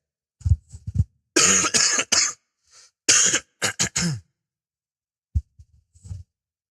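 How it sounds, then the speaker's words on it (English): A series of harsh coughs and throat clearing in bursts, close and loud, with pauses between fits and a few quieter coughs near the end. "you're going to hear me cough like crazy too"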